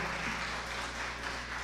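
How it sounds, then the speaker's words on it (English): Brief burst of audience applause at a policy summit after a speech: dense, even clapping that sounds close and fairly loud throughout. "I thought that applause would be better for Liberia"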